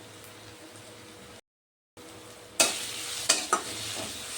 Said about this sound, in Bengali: এই কয়টা দিয়ে এখন অল্প কষিয়ে নেব।